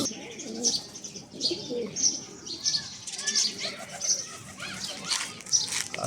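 Pigeons coo repeatedly after a late feeding, with bird chirps and occasional wing flutters mixed in at close range, and a background voice talking faintly.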